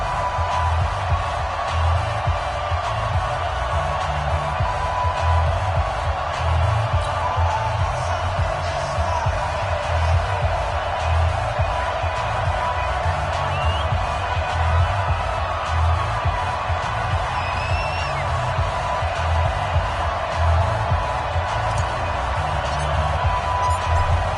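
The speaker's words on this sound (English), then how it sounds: "this crowd is pumped up as their Redskins get set to match up with Dak Prescott and the Dallas Cowboys" Steady stadium crowd roar in a PS4 football video game, Redskins hosting the Dallas Cowboys at FedEx Field, a dense continuous wash of cheering that stays loud and even throughout with no distinct voices standing out.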